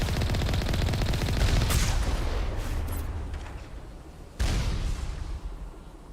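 Gunfire in the video game Mass Effect: dense bursts of rapid automatic shots fading out, then a sudden loud renewed volley, heard alone without talk.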